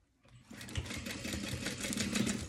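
A sewing machine runs in a steady, continuous whir while stitching the corner of a storage cubby made from a bubble mailing envelope, close and fairly quiet, with no talking.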